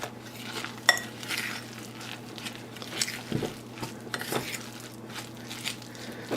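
Vanilla soy protein powder is stirred by hand into a banana oatmeal mixture for protein bites. Soft scraping is broken by occasional light clinks of a utensil against the bowl, all quiet and close.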